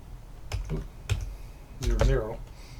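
Key presses on a computer keyboard while entering a long string of numbers for an LCD marquee controller, arriving as a few separate clicks and then a denser, louder cluster near the end.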